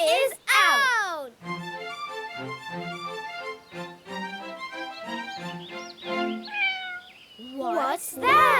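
A toy kitten stuck up high in a pretend-play farm set gives a long run of high, wavering electronic meows, loud and close, with a voice briefly at the start and end.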